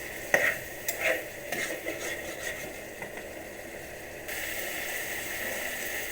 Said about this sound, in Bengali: আবার একটু অল্প নারকেলের দুধ দিলাম, নাড়ছি